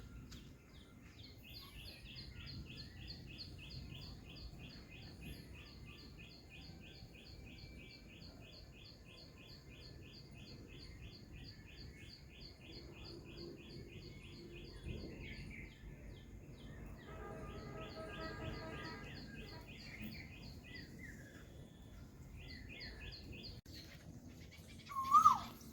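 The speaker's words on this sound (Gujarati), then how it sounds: "મસ્ત બોલે છે ને કોયલ, એક નંબર હો." Birdsong attributed to an Asian koel in a rural farming village: a long run of rapid, repeated chirping phrases held steady at moderate distance over a constant low background rumble, with no talking.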